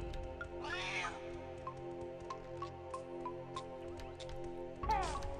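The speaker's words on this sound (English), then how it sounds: "Cats." Cartoonish cat meows from the video game Banjo-Tooie ring out over steady game music, one near the start and another at the end of the passage.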